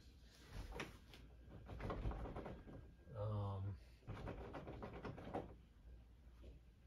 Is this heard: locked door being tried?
yes